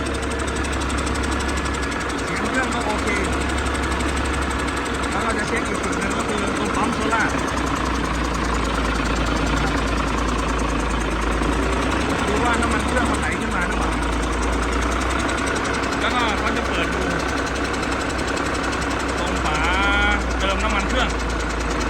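A used car engine at a used parts yard idles steadily nearby with a low rumbling throb and slight knocking, running continuously while scattered clanks and background noises occur.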